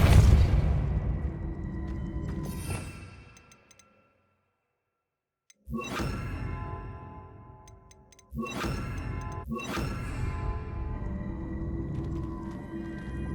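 Depulso spell casts in Hogwarts Legacy: several sharp magical bursts, each a sudden impact with a ringing tail, separated by short pauses, including a stretch of near silence.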